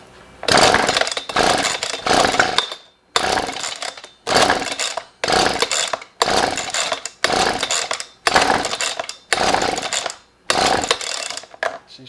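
A Husqvarna 125b leaf blower with a no-start problem is cranked over and over. Loud, close bursts of about a second each are separated by short silent gaps, nine in all.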